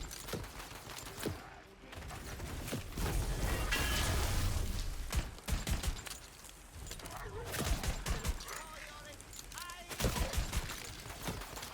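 Semi-automatic gun fire in the video game Tiny Tina's Wonderlands: repeated sharp shots in irregular clusters with booms and impacts amid loud game combat noise across the whole stretch.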